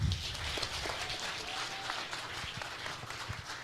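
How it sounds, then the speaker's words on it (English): An audience at a diaspora town hall meeting applauds, producing a dense, fairly faint patter of clapping hands that continues steadily for a few seconds. "Let's give them a better clap than that."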